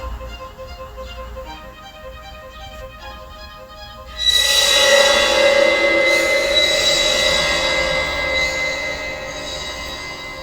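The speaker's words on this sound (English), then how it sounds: "Her driver applied the emergency brakes." A freight train rumbles along, then loud, high-pitched wheel squealing erupts and holds steadily as it emergency brakes, gradually easing off.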